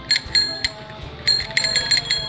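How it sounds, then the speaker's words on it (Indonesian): An ordinary handlebar bell on a vintage Dutch Burgers onthel bicycle rings several times in bright metallic dings, close and clear, in short bursts with brief pauses between them. "bel biasa ya"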